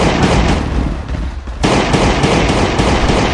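Gunfire from a gun in the mobile survival game Last Day On Earth: Survival, loud and dense, with a brief dip before a sharp burst of shots resumes and keeps going to the end.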